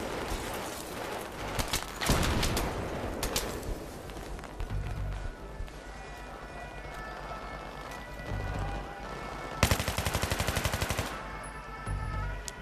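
Gunfire in the video game Battlefield 3: scattered single shots and rapid automatic bursts, including a dense rattling volley near the end, mixed with faint in-game battle ambience and no clear talk.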